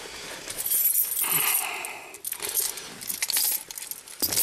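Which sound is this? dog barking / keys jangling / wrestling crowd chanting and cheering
keys jangling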